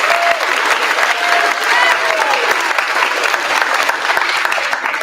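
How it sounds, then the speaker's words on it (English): Audience at a fifth grade chorus spring concert gives sustained, loud applause, dense continuous clapping from a room full of people with little talk beneath it. "give them a big round of applause."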